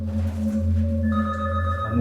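A telephone rings with a steady electronic tone that holds for about two seconds, fairly loud and close, with no talking.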